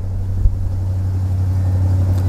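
An Alstom diesel locomotive hauling a container freight train through Wat Suwan station in Thailand revs hard, a loud, steady low engine drone close by with no voices.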